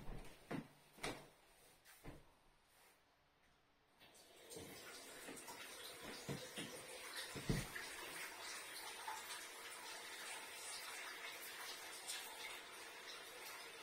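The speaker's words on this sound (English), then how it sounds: "I can hear water flowing" Water runs from a bathroom hot water tap on a combi boiler with a hot water fault, a faint steady rush that starts a few seconds in after some quiet knocks and clicks, continuing evenly to the end.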